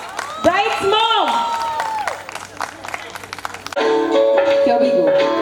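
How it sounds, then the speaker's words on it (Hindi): Wedding sangeet audience applauding and cheering as the bride's mother is called onstage, a broad steady patter of clapping over crowd hubbub with music and voices mixed in, swelling louder near the end. "जोरदार ताली. Come on everyone."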